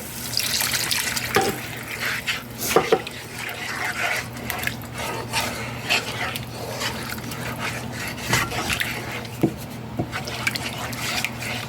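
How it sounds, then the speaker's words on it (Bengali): Milk poured little by little into pasta sauce while it is stirred, wet liquid splashes and spoon clinks close up, with a soft background hum and a few sharper taps. "একটু একটু করে আমি নাড়বো আর একটু একটু করে দুধ দেবো"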